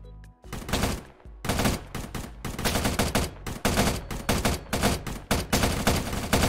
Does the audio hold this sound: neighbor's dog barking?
no